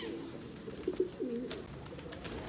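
Soft, low pigeon coos repeat a few times close by, with faint rustling and background noise around them.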